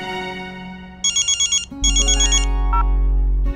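Phone ringtone playing a tinkling electronic melody in quick pulsed bursts, followed by a sustained low synth tone, loud and close with no speech.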